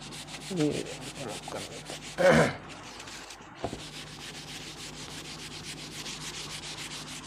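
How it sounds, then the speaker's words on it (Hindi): A board in a maths class is rubbed clean to wipe away writing, a few brisk close scrubbing strokes in a short burst, then a quiet room hum. "सपोज कि मैं इसको ज़रा रब कर देता हूँ ताकि थोड़ा इजी हो जाए"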